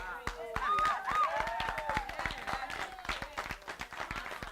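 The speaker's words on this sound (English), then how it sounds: "Shatonia clapping now." A woman named Shatonia claps at a conference gathering, a run of sharp claps close by, mixed with chatter and voices talking throughout.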